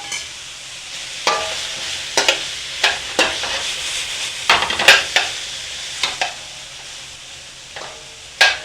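Carrots and broccoli stir-frying in a pan, a steady sizzle broken by repeated sharp scraping and clacking strokes of a utensil stirring, close and alone without talk.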